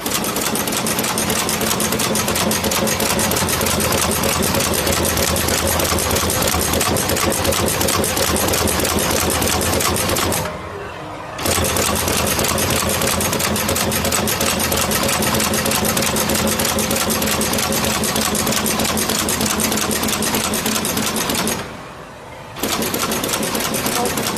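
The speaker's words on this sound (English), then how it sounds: "this machine helps to insert some accessories onto the board" An automatic inserting machine places components onto circuit boards in a factory, a loud continuous rapid mechanical chatter that runs steadily, broken by two short pauses.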